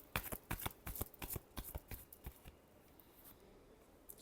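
Tarot cards are shuffled in a quick series of soft riffling snaps that taper off, close and quiet with no talk.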